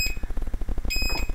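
High electronic beeps from a LiPo battery alarm sound in two short bursts over a rapid pulsing mechanical rumble, fairly close and insistent.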